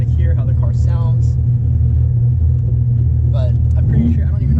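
A Dodge Viper's engine rumbles steadily from inside the car, a loud, deep, continuous drone that persists throughout, with a voice talking over it.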